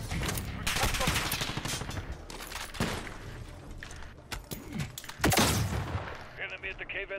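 Gunfire from a Call of Duty Modern Warfare match, with dense overlapping shots and loud explosive bursts from a precision airstrike, heard under steady radio chatter and talk.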